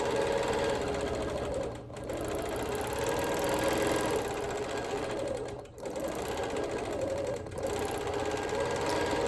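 A sewing machine stitching free-motion quilted feathers, running in a fast, steady mechanical whir close to the mic, with a few brief dips where the machine slows or pauses between runs.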